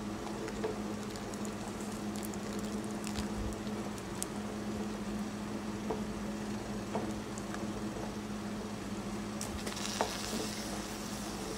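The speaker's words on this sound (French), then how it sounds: "Verser progressivement l'élément de liaison en vanant la sauce." Bigarade sauce being stirred in a pan as thickener is poured in, giving a faint, steady bubbling and soft sizzle with occasional light clicks of the utensil.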